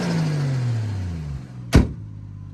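Toyota Soarer with a 1JZ VVT-i turbo engine, a low engine note falling steadily in pitch as the revs drop, then a sharp short burst like a blow-off or door thud near the end before a quieter idle.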